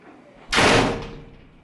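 An indoor door in a home bedroom swings shut with a single loud, close thud, followed by a short fading rumble.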